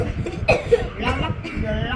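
A person coughs a couple of times in quick bursts amid nearby talking, the coughs sharp and fairly loud against ongoing speech.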